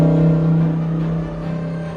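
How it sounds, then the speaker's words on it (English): Lamborghini Huracan passing close by: a loud, deep engine drone with a rough rumble that eases slightly over two seconds, with no voices. "right before going inside, the Lamborghini comes back and says hello"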